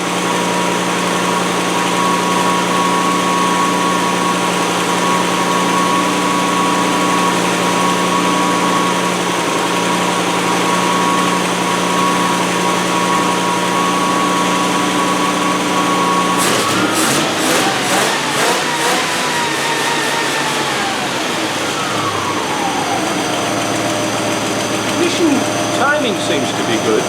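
A V8 engine runs loud and steady at high revs, a constant droning whine, then the pitch wavers and drops toward the end.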